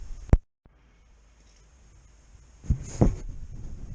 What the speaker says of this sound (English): 4 little spot welds on there, just keeping that in the same place as the one down there